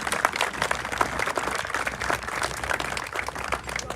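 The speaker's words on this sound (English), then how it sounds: "So if we can give them a round of applause," At an outdoor middle school groundbreaking ceremony, a crowd claps for high school representatives in a moderate, steady round of applause that is fairly quiet and distant.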